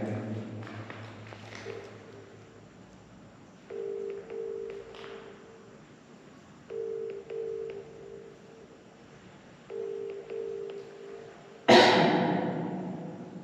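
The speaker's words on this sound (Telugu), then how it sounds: "గురువుగారికి అయితే ఫోన్ చేస్తాను" A telephone dials out, sounding a series of short evenly spaced electronic tones with pauses between them, followed by a sudden louder burst of noise near the end.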